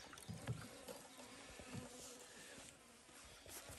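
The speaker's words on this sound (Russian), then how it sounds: "Пчелки начали летать уже." Honeybees flying around a beehive outdoors, a faint, steady buzzing drone with small bumps as individual bees pass nearby, quiet and continuous, with light handling noise and no talking.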